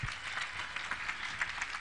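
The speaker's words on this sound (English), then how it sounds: "Let us clap unto God and appreciate him." A congregation at an outdoor crusade claps together in a steady, dense patter that runs evenly through the short stretch at moderate volume, with no talking.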